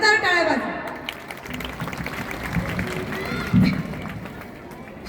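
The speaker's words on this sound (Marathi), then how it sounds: "स्वतःच आपण स्वतःसाठी एकदा जोरदार टाळ्या वाजवा" A women's audience at a mothers' gathering inauguration ceremony claps loudly, a steady, dense patter of hands lasting a few seconds and rising briefly near the end, mixed with crowd murmur.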